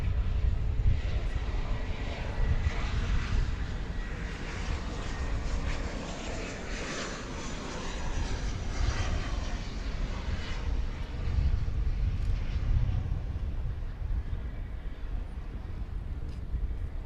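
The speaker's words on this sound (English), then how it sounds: "Got a flight coming in from Los Cabos in Mexico. An Airbus A321, American Flight" American Airlines Airbus A321 arriving from Los Cabos, Mexico, at DFW airport at night, a steady broad jet roar held at moderate loudness for the whole stretch, with no one talking over it.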